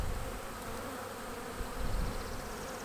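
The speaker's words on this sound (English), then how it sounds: "They're actually doing orientation flight at the back of this hive too." Honeybees making orientation flights at the back of a hive, a continuous dense buzz of many insects close by, steady and fairly loud with no talking.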